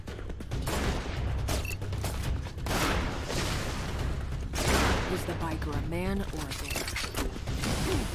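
Rapid video game gunfire in Tango 5 Reloaded, dense crackling bursts of shots repeating throughout with mechanical clatter, loud and close, with brief voice-like tones mixed in near the end.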